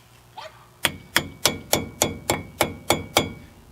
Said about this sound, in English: kind of like hit it with a hammer or something